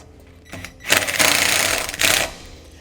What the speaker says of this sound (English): I'm going to put my self-tapping screw through the bracket and onto our split washer